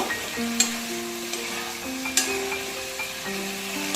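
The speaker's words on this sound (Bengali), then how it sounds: "এটা মিনিট দুয়ে একটু নাড়াচাড়া করে নামিয়ে নেব" Mutton mince fries in a pan while a spatula stirs and scrapes it, with a steady close sizzle broken by occasional sharp scraping clicks.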